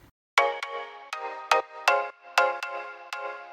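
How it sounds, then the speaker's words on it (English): A bright reFX Nexus synth marimba plays a short melodic phrase of plucked, quickly decaying mallet notes, some overlapping, clear and close with no voices. "it's a pretty basic Nexus marimba sound"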